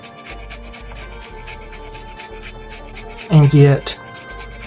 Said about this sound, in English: The more tender it is, the easier it is to grate.